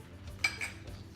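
A metal spoon clinks twice against a container while borax is added to homemade slime, two quick, close, light taps in a quiet room.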